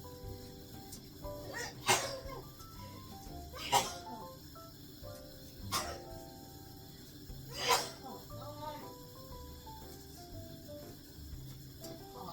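A woman sneezes while cooking a Thai jackfruit curry with chicken in a home kitchen, four sharp sneezes spaced about two seconds apart, loud and close over a low background hum.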